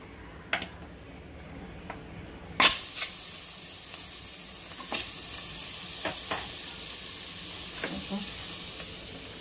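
Goat bones sizzle steadily in hot oil with pepper, cumin and green chillies for a brinjal bone kuzhambu, broken by sharp clatters of stirring and an occasional louder spit.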